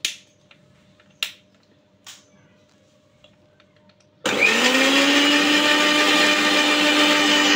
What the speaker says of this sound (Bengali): সবগুলো উপকরণ আমি একটু মিক্সড করে নিচ্ছি ব্লেন্ডারে